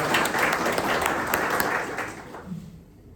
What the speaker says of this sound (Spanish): Igualmente, un aplauso.